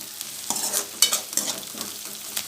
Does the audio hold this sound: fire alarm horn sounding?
no